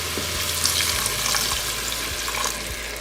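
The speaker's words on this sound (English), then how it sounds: "now we're gonna deglaze the pan. I've got 4 cups of water. I'm gonna add about 1 cup now." Water is poured into a hot Instant Pot to deglaze it, giving a steady hiss and sizzle with a rushing splash throughout, close and fairly loud, with no voices.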